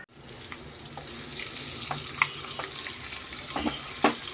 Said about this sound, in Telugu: చూడండి, గుడ్లు అయితే ఇలా వేగించేసుకుందాం.